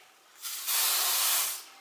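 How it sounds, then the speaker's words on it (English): A short, steady hiss of hair spray sprayed onto a fringe, close and loud, lasting about a second before cutting off. "So I'll just spray my fringe."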